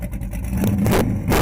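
A custom car's engine revs hard with its exhaust cutouts open, giving a loud, continuous roar that swells and stays strong throughout.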